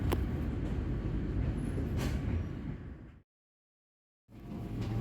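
A Gaya Baru Malam Selatan passenger train runs toward Pasar Senen station with a steady, loud rumble of wheels and carriage, broken by a sudden gap of about a second of silence before the roar resumes.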